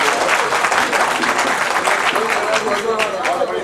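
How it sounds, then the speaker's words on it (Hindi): A mushaira audience in Delhi bursts into sustained, dense clapping, a steady roar of many hands lasting several seconds. "एक बार जोरदार ताली बजाकर मुझे हौसला दे"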